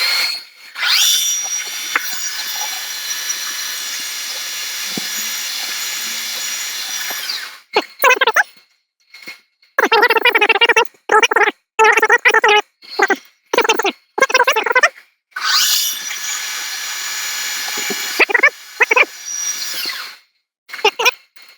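A power drill bores a hole through steel, running at higher speed in long steady whining stretches that break into choppy bursts as the bit bites, starts and stops, then a final sustained run, loud and close.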